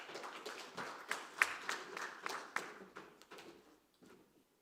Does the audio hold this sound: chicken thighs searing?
no